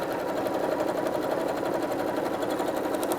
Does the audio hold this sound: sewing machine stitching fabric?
yes